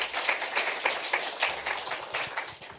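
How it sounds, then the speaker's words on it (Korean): Audience applause after a call for a warm welcome before a children-themed presentation at a PT show, steady dense clapping throughout, moderately loud with a faint voice underneath. "여러분 뜨거운 박수 부탁드리겠습니다"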